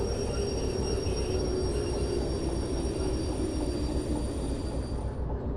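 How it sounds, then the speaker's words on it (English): A train's locomotive brakes engage in the Derail Valley game: a steady low rumble of rolling stock with faint high squealing tones above it, gradually easing off at the end. "And now engage full locomotive brakes as well."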